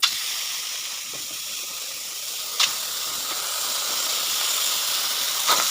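Meat for adobo sizzles in an overheated pan, a steady bright hiss throughout with a couple of brief louder spits, close and loud with no talk.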